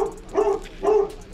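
A dog barks behind a house door, two close, mid-pitched woofs about half a second apart, fairly loud and alone.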